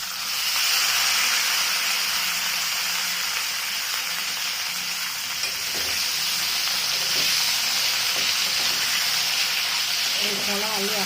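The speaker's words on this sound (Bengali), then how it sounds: "ওল কোঁড়া আলু একসাথে আবার একটু ভেজে নেবো।" Elephant foot yam shoots and pre-fried potatoes fry together in hot oil, a steady close sizzle and hiss running throughout with a few soft stirring knocks near the end.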